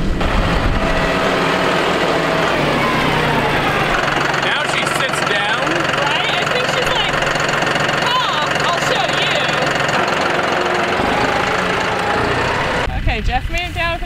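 A farm tractor engine runs steadily and loudly at close range on a bison ranch, a continuous low rumble with a rougher, changing tone near the end, and people talk over it.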